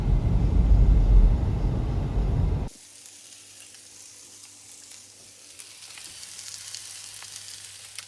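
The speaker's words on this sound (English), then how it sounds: "The smell of sauteing onions is one of the best smells in the world." Onions sautéing in a pan give a loud close sizzle for nearly three seconds, then the sound drops abruptly to a faint low hum with only light background noise.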